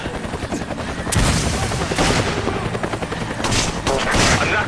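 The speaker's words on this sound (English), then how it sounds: "I can hear gunfire." Bursts of gunfire in the video game Resident Evil 5 crack and rattle amid a rumbling background, several volleys at moderate distance with rapid automatic fire.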